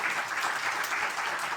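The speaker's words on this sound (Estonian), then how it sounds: "Teeme suure aplausi meie sarja tegijatele, meie panelistele." Audience applause at the close of a panel discussion day for an Estonian TV series about zoo life, a steady dense clapping held evenly through the short stretch.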